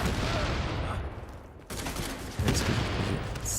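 Frag grenade blasts in The Division, a dense, sustained roar of gunfire and explosions filling the scene, loud and continuous with a brief dip before a renewed burst.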